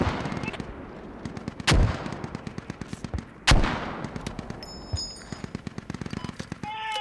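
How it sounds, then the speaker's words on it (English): Gunfire and mortar fire in the military shooter Squad: rapid rattling bursts of rifle and machine-gun shots run throughout, with two heavy, booming mortar impacts standing out, and distant voices mixed in. "Time to keep those mortars coming, it's giving me cover"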